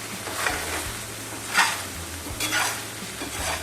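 Dried prawns frying in oil in a pan, a continuous close sizzle with several sharp scraping stirs of a spatula against the pan.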